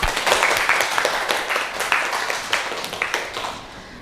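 A classroom group applauds together, a brisk patter of many hands clapping at close range that gradually tapers off over a few seconds.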